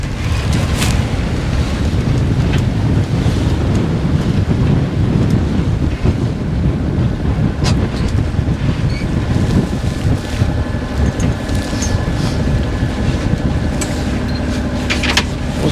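A sailboat motoring upwind toward Läckö with a reefed mainsail meets loud gusting wind buffeting the microphone and rushing waves against the hull, a dense continuous roar with occasional sharp knocks.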